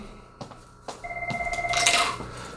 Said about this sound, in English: Ignore the ringing phone.